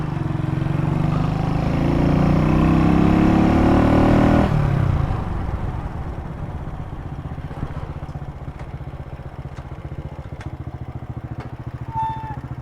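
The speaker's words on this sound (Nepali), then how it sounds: "सानो बाइक छ यार" A small 1990s motorbike is ridden close by, its engine revving loudly and rising in pitch for several seconds, then dropping to a lower, rattling idle with scattered clicks and clatter.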